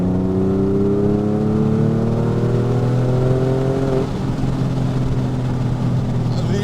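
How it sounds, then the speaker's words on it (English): Porsche 911 with a fully rebuilt engine decelerating off-throttle on a road, a steady loud engine drone with falling harmonics as revs drop, heard from inside the car with no talk. "that's a great opportunity to do a nice off-throttle decel for us"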